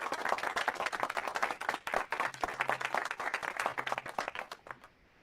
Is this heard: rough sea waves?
no